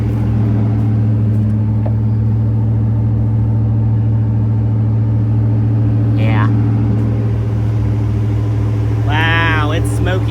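A 1982 Pontiac Trans Am engine idles steadily with a low, constant rumble that runs the whole time, while voices speak briefly over it.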